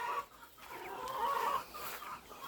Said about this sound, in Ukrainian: Кури он собі тріпало влаштували, а ці верещать